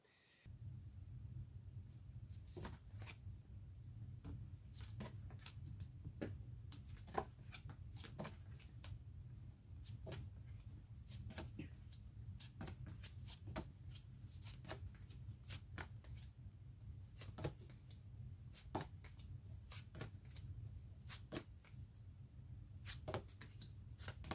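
Tarot cards shuffled by hand, a quiet run of soft repeated riffles and flicks over a low room rumble, close and with no talking.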